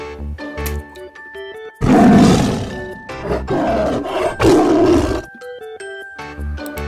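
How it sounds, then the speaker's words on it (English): A tiger gives a long, loud, throaty roar in two surging bursts, close and powerful, framed by light background music before and after. "Yellow tiger."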